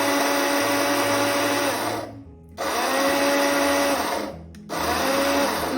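A kitchen mixer grinder grinds masala spices on pulse mode, a loud high-pitched whirring roar running in bursts of about two seconds, separated by short silent pauses as the motor stops and restarts.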